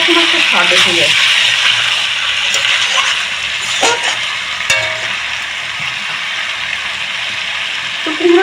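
Pumpkin braises in hot oil in a pan for a prawn curry, giving a steady loud sizzle with a few sharp clinks of stirring near the end.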